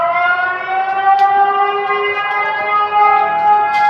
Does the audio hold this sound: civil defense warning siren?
yes